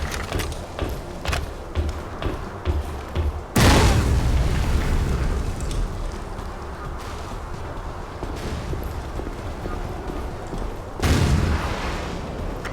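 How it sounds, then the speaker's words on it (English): Gunfire and explosions in a Battlefield 2: Modern Combat firefight, with scattered shots and two heavy, loud blasts that roll out into rumbling decay. "We cannot move under this fire!"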